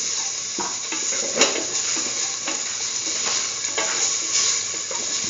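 Continuous bright sizzle of chili powder sautéing in a hot pan for a curried lentil and egg stew, with occasional scrapes and clinks of a utensil stirring, close and steady.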